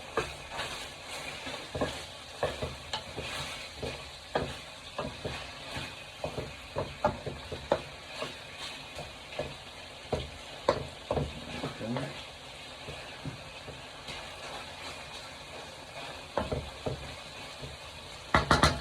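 Chicken sizzles steadily in a hot pan while a utensil stirs and scrapes it, producing frequent sharp clatters over the constant frying hiss.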